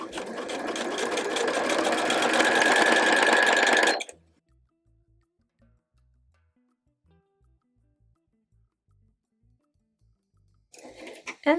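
Sewing machine stitching fabric, a loud, close, fast mechanical whirr that runs for about four seconds, then stops dead into near silence before a short final burst of stitching.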